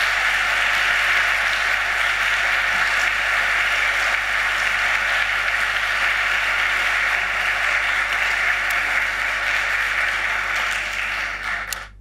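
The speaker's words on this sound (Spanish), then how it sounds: "le brindamos un fuerte aplauso a la doctora Quillou" Audience at a seminar on new immigration and racism in Chile applauds a speaker after her talk, a steady, dense wash of clapping held at even loudness for about twelve seconds before tapering off at the end.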